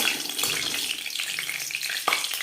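Paneer frying in hot refined oil in a pan, a steady close sizzle and crackle with a few sharper spits, running continuously for a couple of seconds without any voice.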